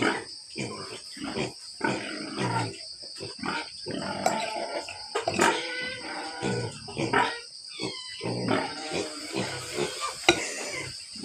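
A pig grunts repeatedly at close range in an irregular series of rough snorts, with some steady background noise and occasional clatter.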